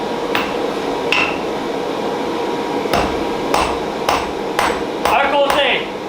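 A hammer strikes a thin metal leaf being forged, giving about nine sharp, ringing blows at an irregular pace, close and clear over a steady background hum.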